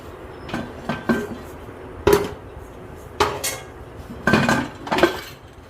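Metal pot lid set onto a cooking pot while preheating it for baking a plum cake, giving several separate clanks and rattles of metal on metal, moderately close, with no talking.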